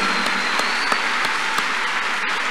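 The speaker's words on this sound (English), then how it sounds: "Clap your hands unto God of the chosen." Church congregation clapping hands in praise during a vigil service, a steady dense wash of claps with a few sharper individual claps standing out, loud and continuous throughout.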